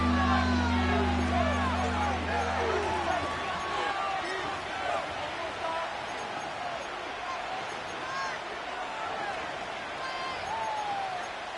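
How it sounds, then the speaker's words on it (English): A stadium crowd in an American football video game keeps up a continuous roar and murmur beneath a commentator's voice, after a brief low hum at the start. "This crowd doing all they can."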